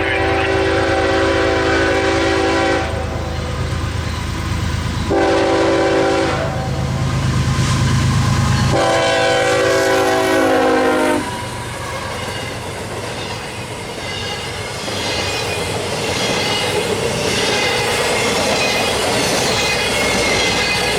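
A freight train rolls through a level crossing at night in North East, Pennsylvania, its horn sounding in several long blasts over heavy wheel rumble and clickety-clack, with squealing wheels as the cars keep passing loudly.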